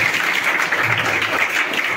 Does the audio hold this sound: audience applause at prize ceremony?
yes